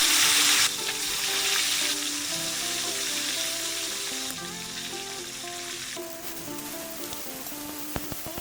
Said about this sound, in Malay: Sekarang aku goreng semua ikannya.